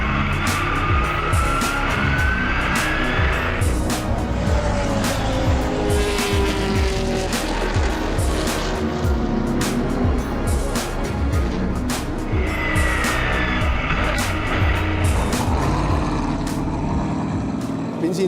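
Can-Am race cars, including a Porsche 917 and a Lola T310, roar past at Hockenheimring during a CanAm Revival, with loud engine passes, rising and falling revs and tyre noise continuing throughout.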